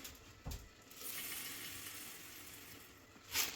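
Caustic soda granules reacting with hot water in a clogged kitchen sink drain, giving a faint, continuous hiss and fizz with a few soft clicks and clinks near the start and end.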